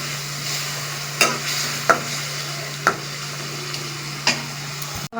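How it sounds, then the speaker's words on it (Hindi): Biryani masala with tamarind is stirred in a sizzling pan, a steady fry hiss broken by four or five distinct spoon clinks and scrapes against the metal, close and without speech. "अब मिक्स कर रहे हैं इसको।"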